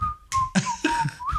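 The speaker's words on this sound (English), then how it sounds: "And I'll be whistling." A person whistles a short, bright melody of a few sustained and sliding notes, close and clear, broken by brief gaps and small background bumps.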